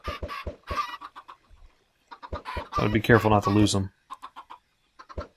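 Chickens in the Minecraft Feed the Beast mod pack cluck in short bursts on a chicken farm, mixed with sharp game clicks, while a player talks over them.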